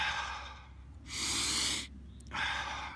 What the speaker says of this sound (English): so you're breathing in as much as you can, and you're just letting out whatever comes out.